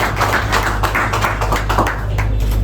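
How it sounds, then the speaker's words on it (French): An audience applauds at a hotel inauguration ceremony, a dense steady patter of clapping that lasts the whole short stretch under a low background hum. "Sous vos acclamations."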